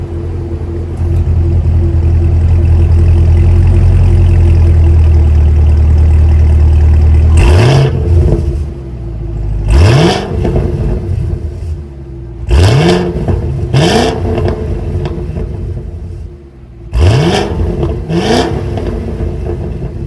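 Supercharged 6.2-liter V8 of a 2024 Cadillac CT5-V Blackwing: a loud steady idle, then about six sharp throttle blips that climb and fall back, close by and with no talk.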